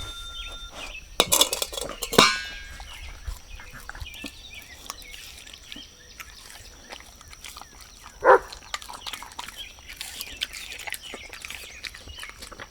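A dog eats its food from a bowl indoors: quiet chewing and licking, with a burst of clinking and a bowl knock near the start and another sharp clink later, no one speaking.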